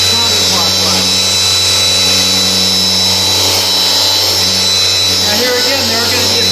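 A polisher spins counterclockwise on car paint during two-step paint correction, a loud, steady motor whine with a constant low hum and high tonal bands. A voice speaks over it throughout.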